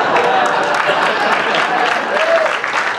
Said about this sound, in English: Come on, why aren't you applauding? Fucking everyone else is.